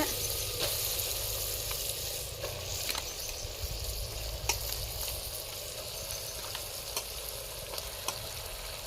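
Chicken pieces frying in masala-spiced oil in a clay pot over a wood fire outdoors, giving a steady, close sizzle with a few soft stirring clicks and no talk.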